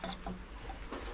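Pecan syrup with pecans left in, poured into a jerky fish marinade, a brief soft trickling and glugging of thick liquid, close up and fairly quiet, with no talking.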